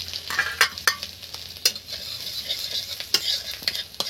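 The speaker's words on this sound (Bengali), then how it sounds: "এই তেলের মধ্যেই আমি রসুন কুচি দিয়ে দিলাম।" Chopped garlic sizzles softly in hot oil for pasta, a fairly quiet hiss broken by several sharp clicks and taps of a utensil against the pan.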